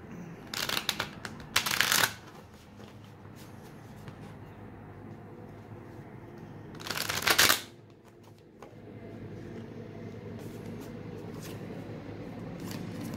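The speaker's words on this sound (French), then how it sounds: "Je vais bien mélanger." Tarot cards are shuffled in two loud, crisp riffling bursts close by, with quieter handling, tapping and rustling in between; no talking.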